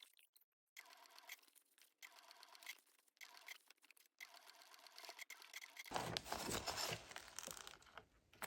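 A sewing machine stitches the corners of a crossbody bag in short close bursts with brief pauses between, followed by a louder rustling, handling stretch near the end.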